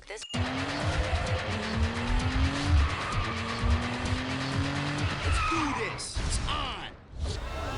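Race cars roar through gear changes in NFS Underground Redux, stepped engine tones climbing repeatedly, then tires screech in a long skid before a brief cutout and the engine picks up again, loud and continuous.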